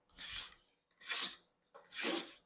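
A hand scraper drawn across wood, lifting fine feathery shavings: three close, dry rasping strokes, each about half a second long, separated by brief pauses, with no voices.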